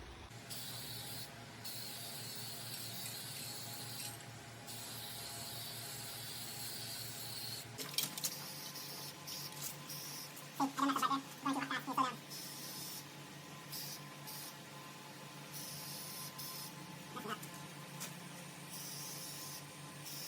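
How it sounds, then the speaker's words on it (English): Spray gun hissing steadily as paint goes onto 1986 Chevy C10 parts, a continuous close airy spray that stops partway, followed by quieter shop noise with a few brief clanks. "when you're spraying, you want to start your spray off of the part and then apply it on"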